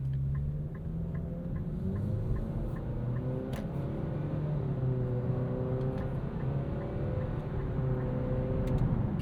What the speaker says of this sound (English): Here there are simulated shifts from that retuned Xtronic CVT.